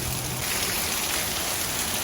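Heavy rain pours down in a steady, dense rush, loud and continuous with nothing else heard.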